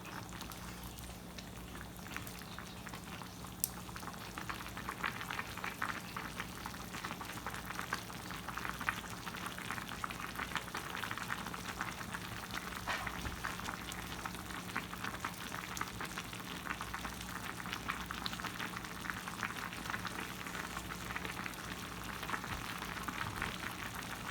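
Liquid bubbles and pops steadily in a pan of one-pan pasta sauce, a soft continuous simmer with a brief clink early on.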